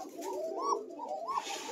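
Pigeons at a pigeon farm coo in soft, rolling repeated phrases, fairly close and clear over quiet background.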